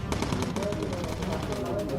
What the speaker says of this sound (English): So the guns automatically fire.